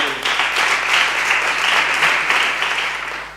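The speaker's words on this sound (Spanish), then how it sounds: "Un fuerte aplaudiment per Javi Lechón." An audience at a storytelling marathon applauds the storyteller with a brief, even burst of clapping that swells, holds steady and then begins to fade, with a faint low hum underneath.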